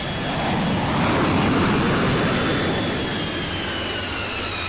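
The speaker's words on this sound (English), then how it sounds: "I've spawned in the biggest commercial airline" Engines of a Boeing 747 airliner in a video game give a loud, steady jet roar with a broad rumble and a whining tone that holds through the whole stretch, with no talk over it.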